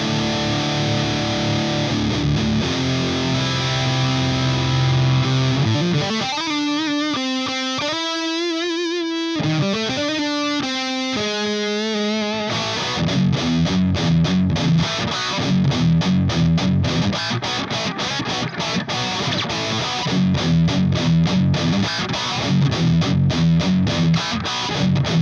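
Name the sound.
guitar through Orange Dark Terror amplifier, distorted tone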